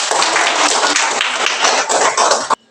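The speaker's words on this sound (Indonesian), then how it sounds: "Ya, tepuk tangan semua." A class of elementary students clapping their hands in a classroom, loud, close and somewhat ragged group clapping with distinct individual claps that stops abruptly just before the end.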